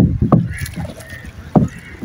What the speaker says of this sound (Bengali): এটা নৌকা